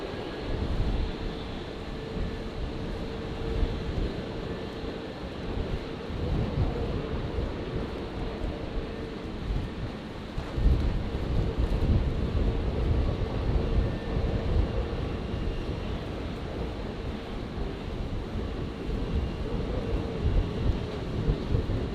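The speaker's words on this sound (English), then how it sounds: "Class 1946, Brisbane Tower, runway 19 right, cleared for takeoff" A plane taking off from runway 19 right at Brisbane Airport, a steady broad roar that swells slightly partway through, with wind buffeting the microphone and no talking.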